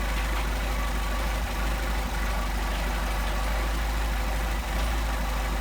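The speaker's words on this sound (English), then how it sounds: "Get our best idle speed without going too far out." A Mercedes 190SL engine with Solex carburetors idling, a steady low, even hum that holds at constant level throughout, no voices.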